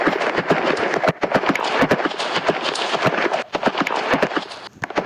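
A Roblox horse gallops in a prison obby game, a rapid, regular string of sharp hoof clip-clops, loud and close, pausing briefly once before resuming.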